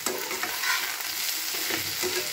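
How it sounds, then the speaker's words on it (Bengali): Vegetables frying in a pan for a small-fish chorchori are stirred, giving steady close sizzling with soft scraping strokes of a utensil throughout, no talking. "আবার নাড়াচাড়া করে নিচ্ছি একটু।"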